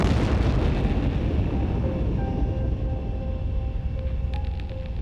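A bomb dropped from a Cold War aircraft explodes, a loud, continuous, deep rumble that fills the whole stretch with no let-up, and a faint tone runs through it partway.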